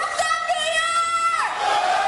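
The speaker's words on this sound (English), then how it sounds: "She's getting the crowd hyped up by..." A crowd at a live show on a radio broadcast lets out a sustained, loud mass of cheers and high whoops, one long rising and falling yell carrying over the room.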